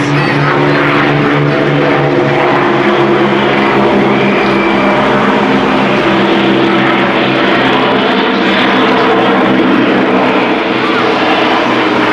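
A Lancaster bomber with four propeller engines roars overhead at Clacton, a loud, continuous, dense drone that holds steady throughout with no voices.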